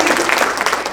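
Audience applauds veterans at a Republican congressional candidate debate for Texas District 16, a dense, steady burst of clapping that fills the brief moment at close range.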